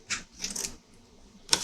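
Scissors snip through paper while a junk journal page is trimmed, giving three short crisp cutting bursts close to the mic, with quiet pauses between the first two and the last.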